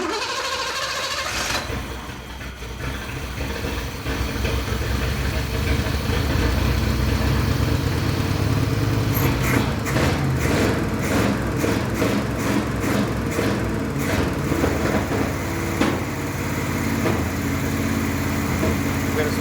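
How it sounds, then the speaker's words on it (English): A Pontiac Phoenix engine, its vacuum leak repaired and a spark plug still cutting in and out, idles with an uneven mechanical rumble and picks up in a few sharp revs partway through, heard up close. "it's in there idling better now. No more vacuum leaks. Revving better."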